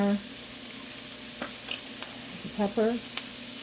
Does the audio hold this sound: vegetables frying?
yes